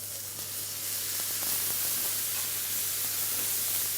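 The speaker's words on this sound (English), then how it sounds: "We're going to pop some of our lovely pasta in" Pasta dropped into a hot pan with langoustines, a steady, loud hiss and sizzle of frying that continues evenly at close range with no talk.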